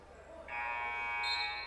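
A buzzer blares at a men's college basketball game, a single sustained electronic tone lasting about a second over faint arena murmur.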